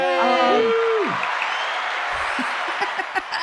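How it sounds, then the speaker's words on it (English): An audience applauds a podcast guest, a soft broad wash of clapping that follows a brief cheering voice and tapers off gradually. "give her a big applause"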